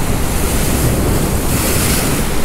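Caribbean beach surf rolling in steadily, a continuous close wash of breaking waves mixed with wind buffeting the microphone, with no voices.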